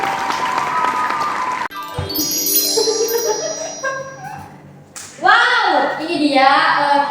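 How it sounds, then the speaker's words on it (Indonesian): A live audience applauds to welcome three guest speakers at an Indonesian school talk show. A burst of clapping is followed by bright chiming, bell-like jingle music that swells again near the end. "Tepuk tangan dulu."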